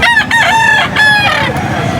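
A rooster at a pet market in Angeles crows loudly and close, one long cock-a-doodle-doo call that ends with clucking.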